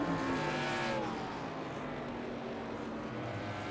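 Race cars roaring around the track in iRacing's 1987 NASCAR Winston Cup field, a continuous engine drone with pitch sweeps as cars pass close by.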